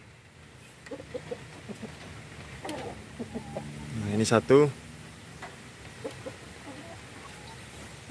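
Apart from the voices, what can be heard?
rooster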